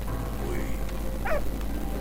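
A dog in the World War I video game Valiant Hearts gives a short bark and yip over the game's background music and ambience, with someone talking.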